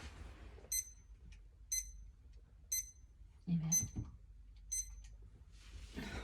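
An alarm clock rings in short bursts of high electronic beeps, evenly spaced about once a second, moderately loud, while a person speaks softly between and over the beeps.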